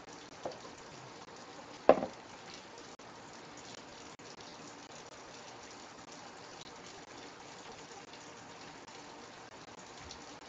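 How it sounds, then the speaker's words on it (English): Hot tap water runs steadily into a container for homemade pizza dough. It makes a soft, even rush that stays faint throughout, with a sharp knock near the start. "So I'm going to take some nice hot water"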